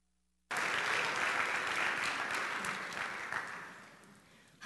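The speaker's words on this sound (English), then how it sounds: "So let's have a big round of applause for Eve and Darcy." Audience at a school talent show breaks into loud, sustained applause, a dense wash of clapping that starts abruptly and slowly tapers off toward the end.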